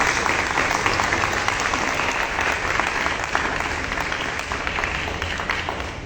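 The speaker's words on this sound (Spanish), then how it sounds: "le damos un fuerte aplauso a nuestro invitado especial" An audience at a book presentation gives a strong, steady round of applause welcoming the special guest, dense clapping sustained at an even level throughout.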